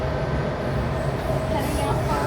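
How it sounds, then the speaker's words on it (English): Steady loud rumble and rattle inside a moving Washington DC metro train, a continuous roar of wheels on track with no break. "We're on the metro again."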